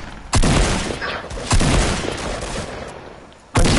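AR rifle gunfire in a multiplayer shooter video game: three sharp, loud bursts, each with a long roaring tail that slowly fades before the next, and no talk over them.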